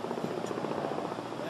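A saxophone fluttering rapidly in a choppy, pulsing buzz that mimics a helicopter's rotor, short and steady.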